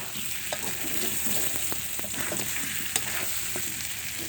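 Mutton pieces with potatoes being braised and fried in a pan, a continuous close sizzle with scattered scraping and clinking of a spatula stirring the meat.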